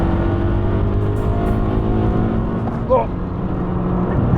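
Steady, loud engine drone of a car running flat out at full throttle on Tokyo's C1 expressway, with sustained harmonics throughout and a brief vocal exclamation near the end.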